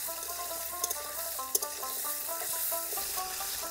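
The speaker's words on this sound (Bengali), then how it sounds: "এবারে পটলগুলো দিয়ে দিচ্ছি তেলে।" Pointed gourds fry in hot oil, a moderate steady sizzle close at hand with a couple of sharp clinks from the pan, heard beneath soft melodic background music.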